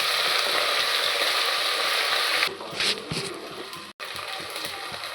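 A tadka of garlic and cumin sizzles in hot oil, a steady close crackle that thins out midway, with a few clinks and scrapes and a short cut near the end.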